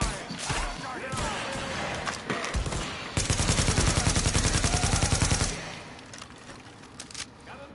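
Video game gunfire in a squad firefight, a rapid automatic burst hammering steadily for a couple of seconds in the middle, with scattered single shots before and after and voices calling out over the action.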